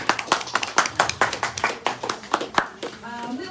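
Crowd applause with rapid, steady clapping from many hands, fairly loud, fading out near the end as a voice begins speaking.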